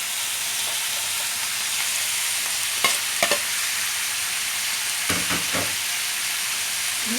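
Cabbage sizzles steadily in a hot pan for pancit bihon, a loud continuous frying hiss with a few scraping stirs of a utensil breaking through.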